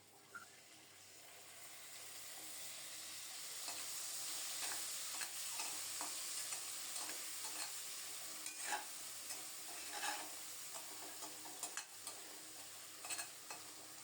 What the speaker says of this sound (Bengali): অল্প কিছুক্ষণ নেড়ে চেড়ে মশলাটাও কষিয়ে নিয়েছি।